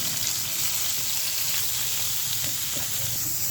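Cooked spiced beef frying in oil, a continuous close sizzle with a few small pops.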